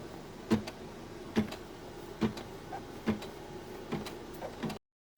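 An embroidery machine quilts a wallet with batting held in the hoop, giving a steady mechanical hum with regular clunks about once a second. The sound stops abruptly at the end.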